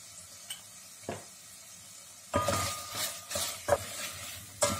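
Meat sizzles in a frying pan as it is stirred with salt, with a few quiet scrapes before the sizzling swells loudly midway and carries on under repeated utensil clinks against the pan.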